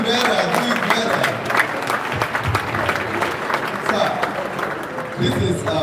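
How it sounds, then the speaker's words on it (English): An audience at a real estate event applauds steadily in a hall, sharp claps blending into a continuous patter while a voice speaks over the clapping. "Please do the clapping better, do it better."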